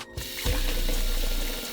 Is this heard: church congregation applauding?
no